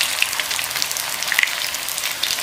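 A crunchy children's snack fries in a small amount of oil, giving a steady, bright crackling sizzle with scattered pops, close and moderately loud, with no talking.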